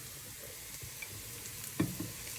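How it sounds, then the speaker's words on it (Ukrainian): Frozen carrots drop into a pan of frying onions for borscht, setting off a steady close sizzle with a brief louder hiss and scrape as they land and are stirred. "І ми кидаємо нашу заморозену морку."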